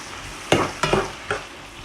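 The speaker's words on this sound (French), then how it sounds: "juste faire suer mes oignons" Onions sweating in a pan, salted with pepper, as three quick scraping stirs rise over a soft, low background sizzle, close and brief with no voices.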